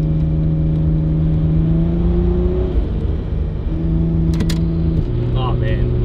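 Turbocharged Ford Fairlane with a manualised BTR shift kit pulling hard in third gear, a loud steady engine drone rising in pitch and stepping at the shift, heard from inside the cabin.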